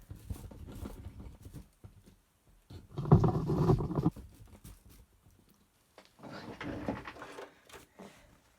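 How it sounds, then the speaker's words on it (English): A sewing machine runs in two bursts of rapid, rattling stitching on a garden cushion, separated by a pause with quieter handling noises. "And back to the sewing machine."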